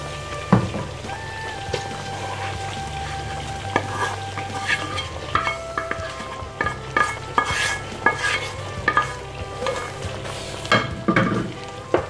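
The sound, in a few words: stirring lamb meat with fried onions in a pan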